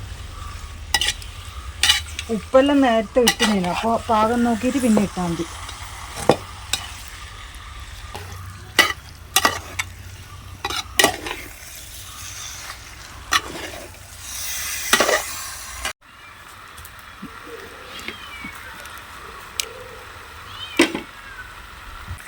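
Chicken curry with spices stirred in a pan: repeated scraping, clattering strokes in an irregular rhythm, close and loud. A person talks over the early part of the stirring.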